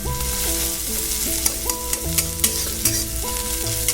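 Onions with a little salt fry in a pan over medium-low gas, giving a steady close sizzle with occasional stirring scrapes, while music plays over it.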